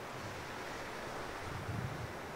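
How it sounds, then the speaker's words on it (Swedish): Sea waves wash steadily on a shore in a continuous broadband hiss, with a slightly stronger surge toward the end and some wind rumble, no voices. "Det enda som är sant är att havet låter."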